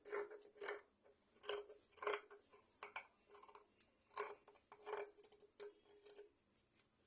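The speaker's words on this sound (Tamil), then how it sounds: "இப்போ இதை வெட்டுறேன் பாருங்க. முதல்ல ஓப்பன் வெட்டை வெட்டிடுறேன்." Scissors cutting fabric for tailoring: a series of crisp, close snips in uneven bursts, quiet and isolated with near silence between cuts.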